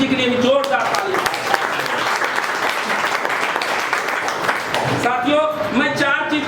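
An audience at a team leaders' meeting breaks into loud applause, a dense burst of clapping sustained for several seconds while a voice speaks over the start and end.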